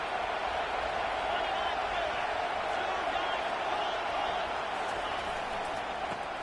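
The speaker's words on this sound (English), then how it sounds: "This crowd knows when to bring it." Steady roar of a college football stadium crowd during a Michigan Wolverines versus Nebraska game, a continuous broad wash of cheering that stays even and fairly loud throughout.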